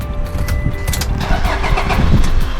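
A Toyota Hilux Vigo 2.5G Prerunner pickup's engine cranks and catches, settling into a dense, steady diesel-like rumble close to the microphone with no talk over it.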